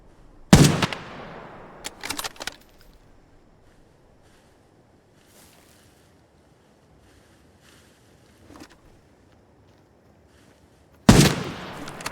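Gunshots in the shooter game Arena Breakout: Infinite: a loud close shot, a quick pair soon after, a faint distant report, then another sharp shot, separated by quiet wind-like ambience.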